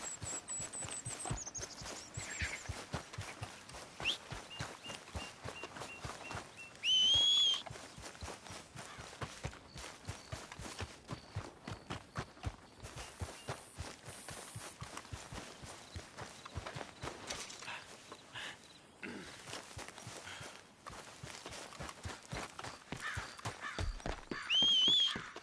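Horse hooves clip-clopping in Red Dead Redemption 2, a long run of steady rhythmic hoofbeats that shift pace and briefly pause, with a couple of whinnies and ambient game sounds.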